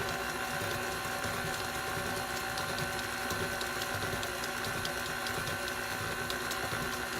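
An electric mixer beats pound cake batter with a continuous, even mechanical whir and faint ticking, steady throughout, close but fairly quiet with no talking.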